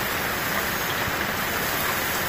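Heavy typhoon rain pours down in a dense, steady hiss that fills the whole stretch at an even, loud level, with no voices over it.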